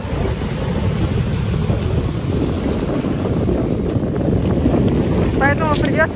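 Strong wind blows at the seaside, a steady loud roar buffeting the microphone for the whole stretch, with a few faint higher tones near the end.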